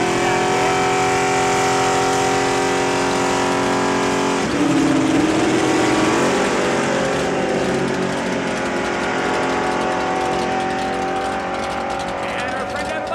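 An 82 Camaro and a Duster launching at a drag strip, loud roaring engines with steady high whine that swells and then fades as the cars pull away, under an announcer talking over a PA.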